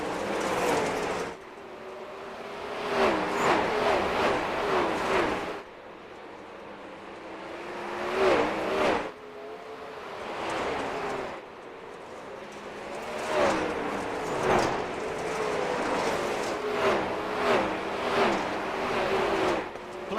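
Race cars at Weedsport accelerating on a restart for a 10-lap shootout, engines roaring past in repeated loud surges and fades as cars sweep by trackside, with no talk.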